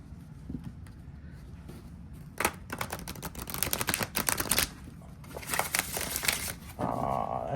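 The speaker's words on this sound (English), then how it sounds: "Let's see how well this shuffles." A deck of Oracle of the Living Spell oracle cards is shuffled close up, producing quiet bursts of rapid riffling and flapping card clicks separated by short pauses.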